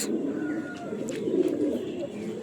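A Dobaj Madras pigeon coos in low, soft, rolling calls close by, with faint chirps and light background noise around it.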